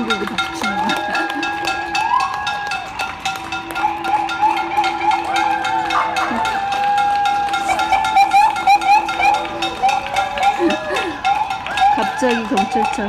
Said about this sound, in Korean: 누가 어디서 냄비 치는 소리 같은데?